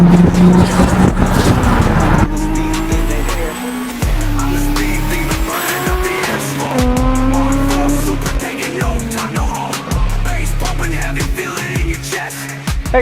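A Toyota Supra with a 2JZ engine revs hard with loud tire squeal and skidding, engine pitch rising and falling through repeated surges, close and continuous under a layer of music.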